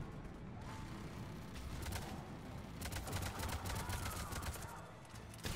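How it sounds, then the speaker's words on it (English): Gunfire rattles in Mass Effect 3 as repeated volleys of rapid shots crack over a dense, noisy game soundscape, with the bursts clustering most heavily in the second half. "Who is shooting from above at them?"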